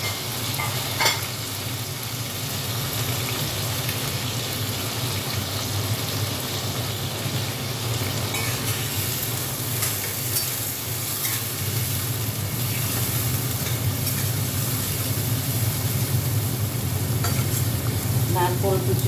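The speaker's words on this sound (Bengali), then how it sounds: "আর এখানে দেখো চিংড়ি মাছ দিয়ে দিচ্ছি।" Prawns and green chili fry in a pan, giving a continuous loud sizzle with scraping and stirring sounds throughout.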